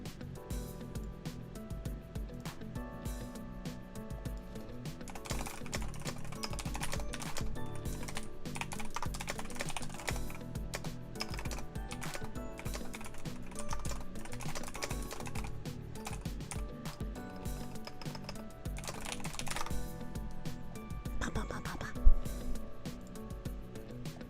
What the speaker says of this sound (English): A lot of typing today